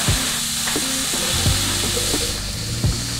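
Peppers, onions and soy chorizo sizzle steadily in a hot pan, with a few sharp clicks of stirring utensils, close and continuous with no talk.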